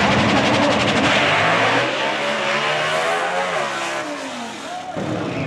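Factory Stock drag race cars with supercharged small-block engines of roughly 1,500 horsepower at the 2023 Gator Nationals, a loud, close engine roar that rises and then falls as the cars pass, with an announcer talking over it.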